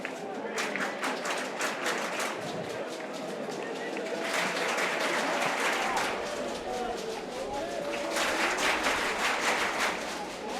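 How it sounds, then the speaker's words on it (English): A crowd cheers and claps at the 2014 WUCC open final of ultimate frisbee, San Francisco Revolver vs Seattle Sockeye. The steady crowd noise swells in waves under continuous commentary. "Crowd starting to get into it."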